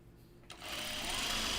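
A sewing machine starts up after a brief quiet moment and runs with a steady, continuous whir while stitching a dress, close and fairly loud.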